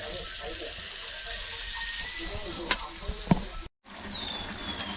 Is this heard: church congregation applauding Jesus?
no